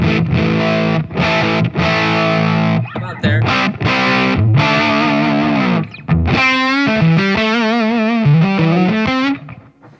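Electric guitar voiced like a Les Paul played through a distorted amplifier in its non-lead mode, loud sustained chords and single-note phrases ringing out with short gaps between them, a brief spoken word in between.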